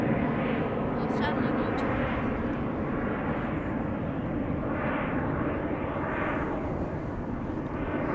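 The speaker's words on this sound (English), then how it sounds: "German Airways Embraer 190 KLM flight 1545 going to Leeds has just taken off." KLM Embraer 190 jet climbing out after takeoff at Schiphol Airport, a steady broad engine roar that swells and recedes over several seconds, fairly close and continuous, with faint people chatting in the background.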